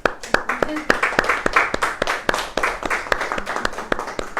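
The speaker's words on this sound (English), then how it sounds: "We're going to clap at the end of each chapter." A group claps in a steady, uneven patter of sharp slaps, fairly close, with a voice talking faintly underneath.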